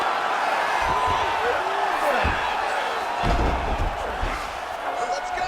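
Arena crowd in the UFC 5 video game reacting to a strike from the bottom fighter during a mixed martial arts bout, a steady roar of noise with a few sharp thuds, while a commentator's voice carries over it.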